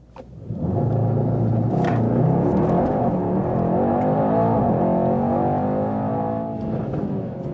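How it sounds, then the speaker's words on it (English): A premium sedan launches with a race start and accelerates hard from standstill to 130 km/h onto a motorway. Its engine rises into a loud, sustained roar that holds for several seconds from inside the cabin. "That was 0 to 130 with the race start."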